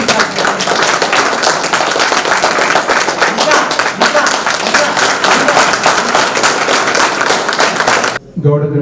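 A large audience applauds at a felicitation ceremony, dense sustained clapping filling the room for about eight seconds before stopping abruptly.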